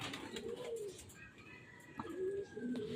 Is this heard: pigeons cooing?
yes